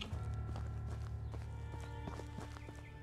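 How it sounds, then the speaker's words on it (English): Footsteps approach from behind the player in a horror video game, a run of irregular thudding steps over a droning, tonal ambient background, fairly close and moderately loud. "Hearing footsteps behind me."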